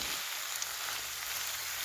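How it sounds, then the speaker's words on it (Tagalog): Chicken tinola sizzles steadily in a cooking pot as it is stirred, a soft continuous frying hiss with no talking. "Haluin ko lang po para"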